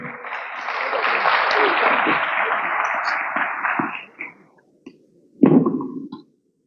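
Audience applause at a public-private business roundtable. A sustained, dense wash of clapping holds for about four seconds, then thins out and stops. A brief loud thump or knock follows near the end.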